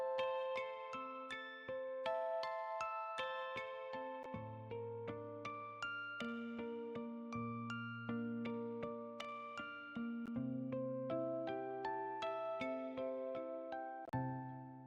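A solo synth melody for breathwork music, soft bell-like notes in an unhurried evolving line, each note plucked and decaying over sustained lower tones, quiet and alone.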